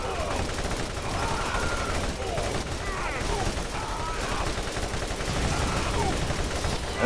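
Assault rifle fire in the video game Borderlands 1, a dense, continuous rattle of automatic shots running for several seconds with a voice talking over it.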